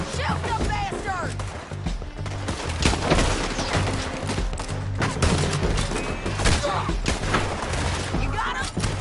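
Dense bursts of video game gunfire from a PS4 shooter crackle throughout, with thuds and booms mixed in under excited voices talking over the action.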